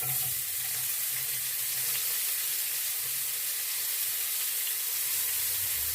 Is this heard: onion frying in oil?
yes